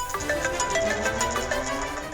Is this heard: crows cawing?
no